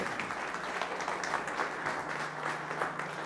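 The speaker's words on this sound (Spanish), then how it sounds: "Aplaudid, aplaudid." Audience applause at the close of a conference session on artificial intelligence, a steady wash of many hands clapping together, sustained and moderately loud with no clear gaps.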